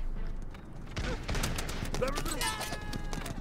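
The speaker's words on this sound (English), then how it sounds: "Oh wow, I forgot how much arrows Artemis fires." Artemis looses a dense volley of arrows in the Totally Accurate Battle Simulator (TABS) battle game, a rapid flurry of sharp whooshing impacts layered over steady battlefield din, with voices talking over it.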